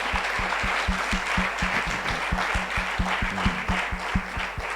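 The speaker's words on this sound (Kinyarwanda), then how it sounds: "Amashyi menshi ku mwami Yesu." A church congregation claps together during a sermon, full and steady applause under a rhythmic, regular beat, probably clapped or drummed, with a low hum throughout.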